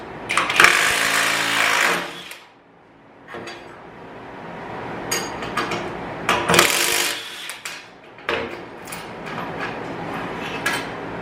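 A WAKYME 21V half-inch cordless impact wrench hammers at a bolt on a grade 8 nut in loud, close, rattling bursts, with a short pause and then repeated sharp impacting runs.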